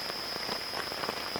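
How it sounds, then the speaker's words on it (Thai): Steady rain pattering in a forest near a large takhian tree during a storm, a dense continuous hiss of drops striking leaves and ground close by, with no voices. "ไม่ค่อยจะได้ยินเสียงอะไรในป่ามีแต่เสียงฝนวันนี้"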